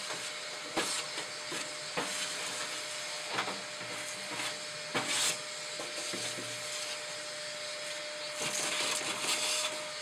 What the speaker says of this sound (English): So I'm just going to use the shop vac now to vacuum this out.